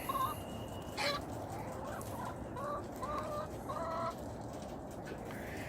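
A flock of chickens clucks in short, repeated bursts against a constant outdoor hum, with a sharper squawk near the start.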